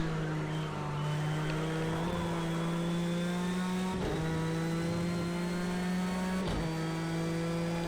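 GTE race car engine in Project CARS 2, a loud sustained close drone rising steadily in pitch, briefly dipping at gear shifts, with no talk.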